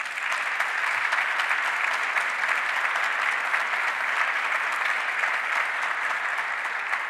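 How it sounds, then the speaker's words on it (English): An audience claps steadily for the governor at a downtown revitalization announcement in Rochester, a loud, even wash of applause that holds without letting up. "let's give the governor a round of applause one more time"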